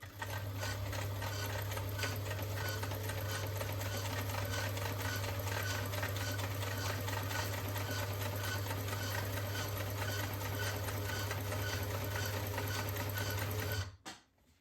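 A sewing machine runs a steady, continuous stitch for about fourteen seconds, back tacking across a knitted fair isle Christmas sweater, then stops abruptly; no talking.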